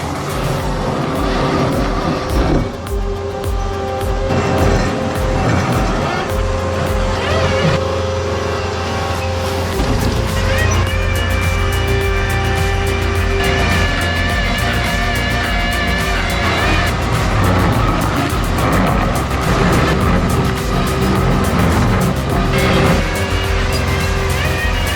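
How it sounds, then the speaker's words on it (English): A 100 HP stump-grinding machine shreds a 30-inch tree stump with a loud, continuous engine roar and dense mechanical grinding that stays constant throughout. "The 100 HP beast charges the 30-inch stump, shredding the wood layer by layer like a true monster."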